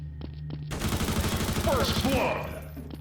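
Rapid automatic gunfire in Counter-Strike: Source, a sustained burst of closely spaced shots after a few quieter taps, with a voice talking over the end of the volley.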